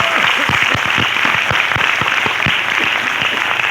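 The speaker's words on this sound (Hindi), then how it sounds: "तालियां बजा लो" An audience applauds steadily, dense clapping from many hands filling the whole stretch at a loud, even level, at a leadership training event.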